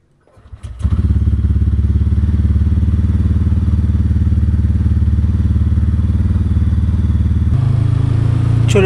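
A motorcycle idles close by with a loud, steady thumping engine note before heading out on a day ride, the rumble settling in after a brief start-up and shifting slightly near the end, with no one talking.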